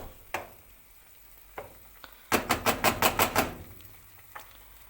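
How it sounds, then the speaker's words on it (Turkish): Onions and peppers fry in oil in a pan under a steady low sizzle, broken by a few sharp utensil knocks and a quick run of rhythmic spoon scrapes and taps against the pan. "Buraya da soğanla biberi yağda kavurdum."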